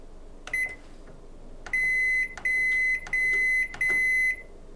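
Panasonic microwave oven beeping: one short beep, then four sustained tones in a steady row, each a clear high electronic note, close and loud against a quiet room.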